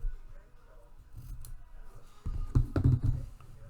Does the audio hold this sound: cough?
no